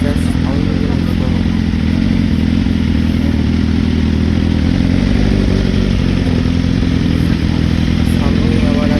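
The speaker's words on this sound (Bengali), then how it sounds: "বাইকের জাস্ট সাউন্ড শোনো" Motorcycles rumble loudly and continuously at a bike meet by a roadside dhaba stall, a thick unbroken engine drone with some clatter, and voices mixed faintly into the noise.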